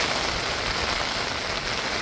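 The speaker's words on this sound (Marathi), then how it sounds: "पाऊस पण खूप आहे." Heavy monsoon rain pours at a roadside stop in Sangameshwar on the Mumbai–Ratnagiri route, a dense, loud, steady hiss of drops hitting surfaces.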